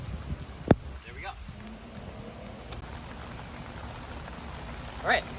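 Rain falls outdoors during a front brake pad job on a 10th-generation Honda Civic, a faint, steady patter with a few sharp drips and knocks, with no talk over it.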